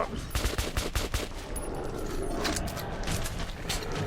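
Gunfire in Metro 2033 Redux, a rapid burst of automatic shots in the first half settling into sustained loud, noisy combat clatter.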